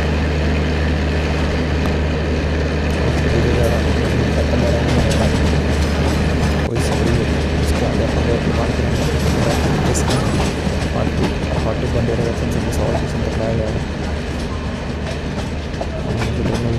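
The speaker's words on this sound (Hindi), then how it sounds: "हमारी ट्रेन ऑनलाइन पर आ चुकी है" A simulated Indian express train runs along the track in Trainz Simulator, a steady loud rumble with rhythmic wheel clatter throughout and a brief sharp click near the middle, with no talk.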